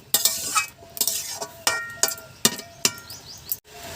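Bottle gourd and prawn curry is stirred in a pan, giving a run of close, sharp spoon scrapes and taps against the metal in an irregular rhythm, with no voices.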